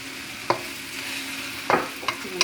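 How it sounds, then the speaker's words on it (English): Soy sauce and shrimp fried noodles, dressed with dark soy sauce and sesame oil, are stirred in a sizzling pan, with several sharp utensil scrapes and knocks over a constant frying hiss. "I'm going to give that a little stir."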